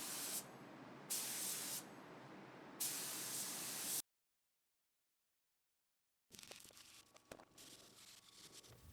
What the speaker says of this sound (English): I spray it, I hang it up to dry for a week